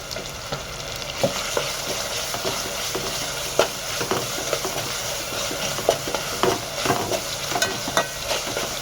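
Chopped tomatoes with salt sizzle and fry in a pan while cooking for a spicy Maharashtrian matki amti, a steady close crackle broken by occasional sharp pops and stirring clatter.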